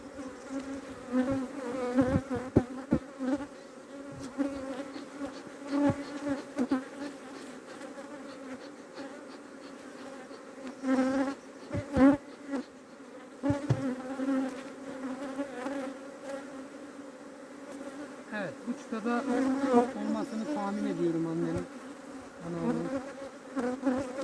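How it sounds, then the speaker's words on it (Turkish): Bees buzz continuously around a hive during an April inspection in Adana, a dense droning hum that swells and dips as agitated insects pass close, with occasional soft knocks and rustles. "ne kadar uğraşsak da arı agresifleşiyor"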